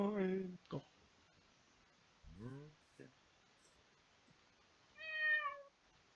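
A Minecraft cat meows in a quiet game scene. Several short, clear synthetic meows come with pauses between them, and a brief soft click or rustle falls in between.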